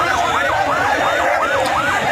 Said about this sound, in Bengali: এই যে একটা অ্যাম্বুলেন্স আসছে দেখতে পাচ্ছেন